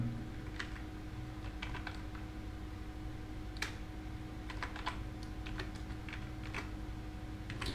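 Typing on a computer keyboard while entering text into a WooCommerce site settings page: a steady run of light, irregular key clicks at close range over a low constant hum, with no talking.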